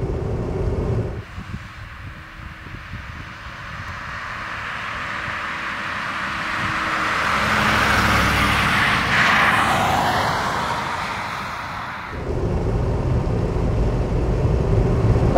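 A 1970 Mercedes 600 drives along at speed, a steady rumble of engine and road noise under strong wind rush that swells and then eases, with no talking.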